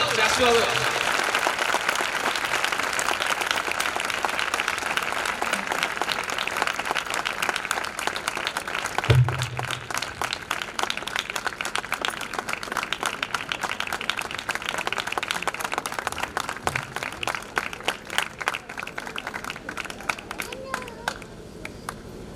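Congregation applause at a pre-Christmas church celebration, a sustained crackle of many hands that thins into scattered claps toward the end, running beneath a speaking voice.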